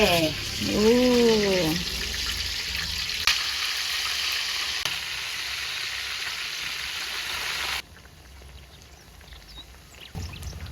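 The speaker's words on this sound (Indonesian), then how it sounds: "Goreng tempe." Tempeh frying in hot oil in a village kitchen, a broad steady sizzle that runs loud for most of the time, then drops to a quieter simmer, with a short voice-like tone near the start.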